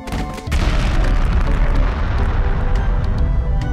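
A cartoon grenade goes off with a loud, booming blast that swells after a short lead-in and then holds as a dense, rumbling roar to the end.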